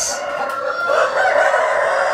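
Chickens inside a brooding house, a loud, close rooster-like crow drawn out over a couple of seconds with clucking mixed in and no talking.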